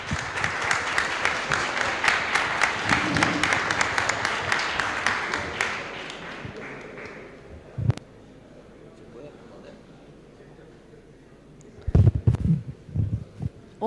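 An audience applauds at a labour law congress panel in Rosario, with dense clapping for several seconds that fades out, then a quiet room and a few sharp bumps near the microphone.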